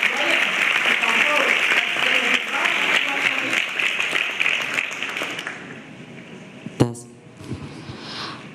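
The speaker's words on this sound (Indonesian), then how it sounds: "kita undang dengan tepuk tangan dulu" Large audience applauding to welcome a 16-year-old student speaker at an event with Pope Francis, sustained dense clapping that thins out and stops, followed by a thump and brief voices.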